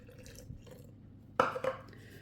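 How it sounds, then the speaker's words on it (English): Filtered water is poured from a cup into flour for sourdough bread, with a short, close splash and trickle after a quiet start. "Add 1 cup of filtered water."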